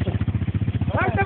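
An ATV engine cranks and coughs at full throttle in quick, even, throbbing pulses close by, and a voice breaks in near the end.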